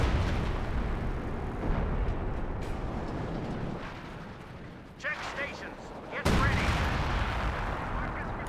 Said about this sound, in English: He's doing an old-fashioned barrage this time, not the creeping variety